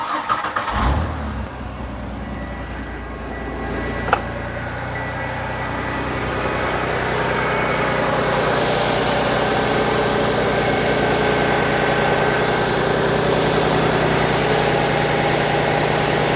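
A 1995 Ford F-150 pickup engine with a random misfire starts up, revs briefly, then settles into a steady, loud, droning idle with a constant low rumble throughout.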